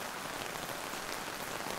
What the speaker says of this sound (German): der Schirm kann den Regen kaum noch abhalten